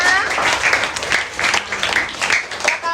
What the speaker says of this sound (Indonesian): sekali lagi tepuk tangan dulu untuk kita semua